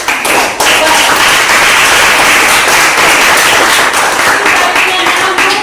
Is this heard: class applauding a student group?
yes